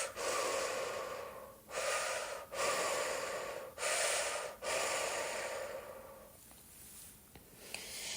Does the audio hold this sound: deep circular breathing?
yes